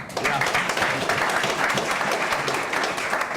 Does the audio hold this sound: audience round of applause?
yes